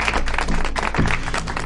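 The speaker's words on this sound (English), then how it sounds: "A round of applause for him." Steady game show studio audience applause, dense clapping filling the whole moment at a constant moderate level with no voices standing out.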